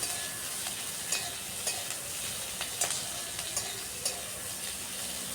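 Onion, garlic and ginger fry in a pan with steady sizzling, and a spoon stirs them in repeated scrapes that come every half second or so. Nobody speaks.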